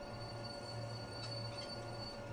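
Train easing slowly toward a station platform in the Train Simulator video game, a steady low rumble and hum of rolling stock with faint wheel squeal, continuous and fairly quiet.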